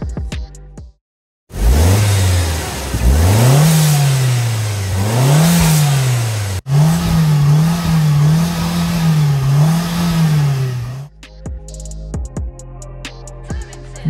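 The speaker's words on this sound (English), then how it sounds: "And here's the engine and exhaust sound while racing." A 1.5-litre petrol MG Hector SUV engine and exhaust rev loudly and repeatedly. The pitch swoops up and down in waves, then settles into a sustained high drone before dropping away.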